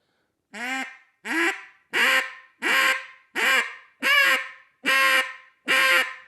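A duck call blown eight times in a steady rhythm, each a short raspy quack with a rising pitch, loud and close with brief gaps between.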